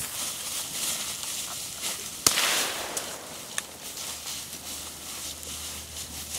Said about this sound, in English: Good shot, man. First shot.